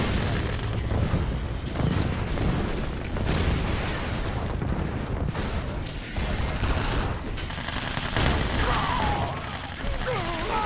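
Airstrike explosions in a Command & Conquer Reloaded battle between Allies and Soviets boom and crackle in a steady barrage, with a voice speaking over the loud blasts.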